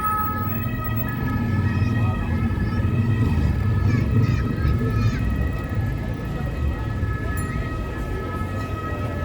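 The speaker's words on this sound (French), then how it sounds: "L'ambulance, la salpêtrière." An ambulance siren sounds on Boulevard de Port-Royal in Paris as the vehicle heads toward the Salpêtrière hospital, steady and fairly close under continuous street traffic, with people talking nearby.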